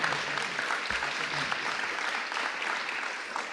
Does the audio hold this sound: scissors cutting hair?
no